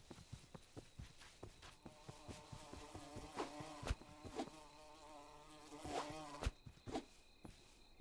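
Bees buzzing inside a jar in a video game, a soft steady drone with scattered clicks and taps throughout, faint and alone.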